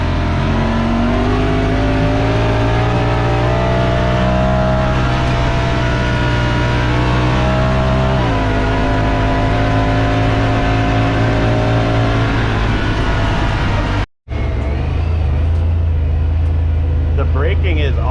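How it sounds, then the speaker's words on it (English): Loud, constant engine drone heard from inside the cab of a new side-by-side UTV on a trail ride, with shifting pitch as the engine revs up and eases off, and a brief dropout near the end. "The engine noise in this cab is pretty loud too."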